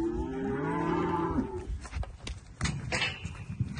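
Heifers on a cattle ranch with steers and bulls nearby give a close, drawn-out moo lasting over a second, followed by quieter rustling, shuffling and small knocks from the herd.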